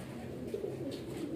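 Breeder pigeons, a pair with a white bird, coo softly in a low, quiet murmur over a short stretch, with no voices.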